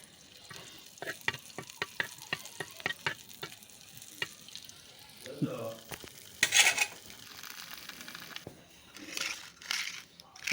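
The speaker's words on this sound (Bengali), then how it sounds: "এখন আমি চাটুতে খুব অল্প পরিমাণে তেল দিয়ে এখন আমি রসুনের কোয়ার আর কয়েকটা গোটা কাঁচা লঙ্কা একটু ভাজা করে নিচ্ছি" Garlic cloves and whole green chillies fry in a little oil on a flat pan, sizzling steadily while being stirred, with scraping and clicking strokes and a louder burst of hissing midway.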